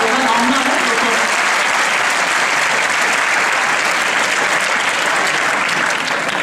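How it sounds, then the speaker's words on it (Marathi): Dense, loud audience applause fills a hall at a Gudi Padwa cultural program, steady sustained clapping from a large crowd throughout with no pauses. "टाळ्या या सगळ्यांसाठी. टाळ्या."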